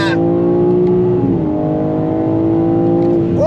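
A 2022 BMW M3 with xDrive under full throttle, its engine note rising steadily and loudly from inside the cabin, heard continuously with a slight dip mid-pull.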